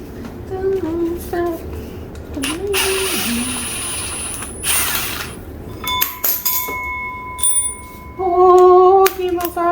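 Ratchet clicking as bolts come off a water pump assembly on a Nissan 300ZX during an LS engine swap, heard as bursts of mechanical ratcheting with metallic clinks and tool handling nearby.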